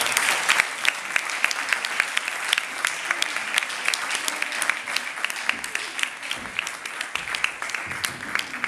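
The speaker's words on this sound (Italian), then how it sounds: "Facciamo anche un applauso per queste persone." Steady applause from a sizable audience at a public debate, dense clapping that holds at an even level throughout, with no voices standing out.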